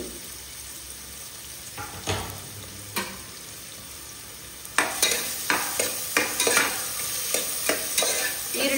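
Green chilli and finely chopped onion frying in oil for a masala, a steady sizzle punctuated by sharp scraping stirs of a spoon in the pan, growing more frequent in the second half.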